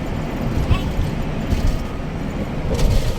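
Camper van driving along a road with a steady low engine and road rumble, loud and continuous, with faint rattles from the cabin.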